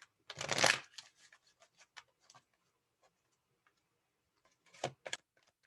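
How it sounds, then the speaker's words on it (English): Tarot cards are shuffled in one quick close riffle, followed by soft scattered taps and slides as cards are pulled and laid down, ending with a second brief flurry of card handling. "Let me pull a couple cards."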